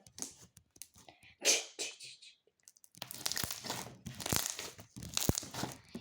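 Homemade slime made from glue and activator is squished and stretched up close, giving wet crinkling, crackling and popping sounds in irregular bursts, with a voice speaking briefly.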